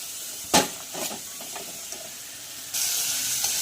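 Mixed vegetables sautéing in a hot pan for a vegetable khichdi, a steady soft sizzle and hiss with a few sharper spatters, growing louder and brighter toward the end.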